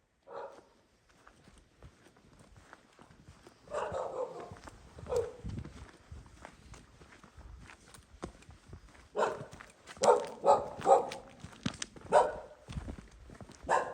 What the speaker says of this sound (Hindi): कुत्ते की भौंकने की आवाज़ आ रही है